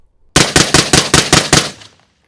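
Suppressed Noveske 5.56 AR-15 rifle firing a rapid string of six loud, evenly spaced shots with a short fading tail.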